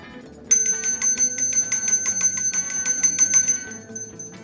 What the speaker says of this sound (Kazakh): Қоңырау соғылды ғой.